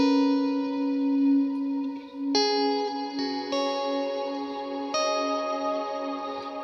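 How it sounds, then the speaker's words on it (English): Meris Mercury 7 reverb pedal on its Cathedral setting, with swell freezing the reverb into an infinite tail: sustained shimmering chords layered over a droning bass note, new notes swelling in and blending into a lush continuous wash. "this button here, swell, when you're on Cathedral, essentially means you freeze that reverb and give it like an infinite tail"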